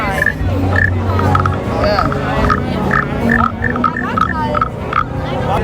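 Rasping croaks from a wooden frog toy repeat several times over the steady hubbub of a busy market in Thailand, with people talking throughout.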